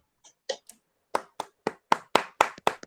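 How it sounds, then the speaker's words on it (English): Roughly a dozen distinct hand claps from a single person close to the microphone during an online lecture, starting hesitantly and settling into an even rhythm, with silence between each clap. "A big clap to Sir Jinesh also"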